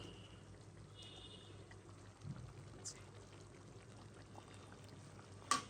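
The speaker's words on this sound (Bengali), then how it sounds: "1 চামচ ঘি দিয়ে দিব" A spoonful of ghee poured into a cooking pot gives a soft, quiet pour with a faint liquid trickle, close by, followed by a small clink near the end.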